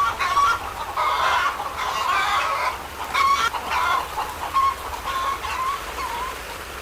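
Several chickens cluck steadily throughout as a radio drama sound effect, with repeated short bursts of clucking and calls over a faint constant background hiss, no voices present.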